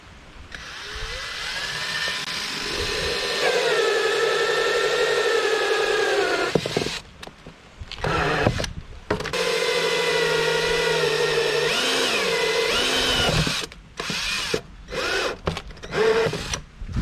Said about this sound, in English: So I'm going to drill out these holes on the 25-gallon pot.